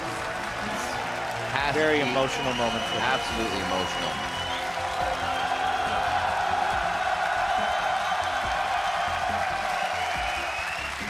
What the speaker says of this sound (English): And there's the applause for Dyrus.